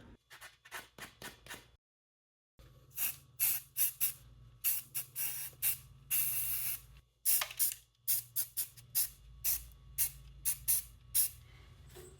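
Short hissing bursts of a spray paint can coating filing cabinet handles, some quick and some longer, repeat in an irregular rhythm with brief pauses between.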